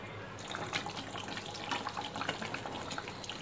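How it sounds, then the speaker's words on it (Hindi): Water is poured into a pot of chicken for nahari, a steady splashing trickle lasting the whole stretch, soft and close with no talking. "1/2 कप हम इसमें पानी डालेंगे, और चिकन को हम मीडियम फ्लेम पे बनाएंगे"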